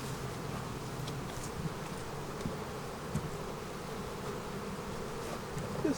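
Dense, steady buzzing of many honey bees close by while a beehive is being split, a continuous droning swarm with no voices over it.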